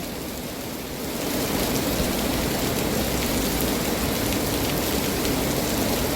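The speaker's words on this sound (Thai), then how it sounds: "รอให้ฝนหยุดตกซะก่อน" A steady downpour hisses close by, growing heavier after the first second and staying loud and even throughout.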